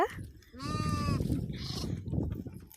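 A sheep gives a short, wavering bleat close by, with another brief bleat and rumbling outdoor noise around it.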